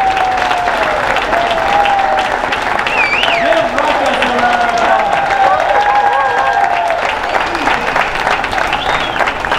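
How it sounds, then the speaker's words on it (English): A crowd at the ribbon cutting of Hodgetown baseball stadium, home of the Sod Poodles, gives a sustained, steady round of loud applause with scattered cheers, a voice faintly audible underneath. "Give yourselves a nice round of applause."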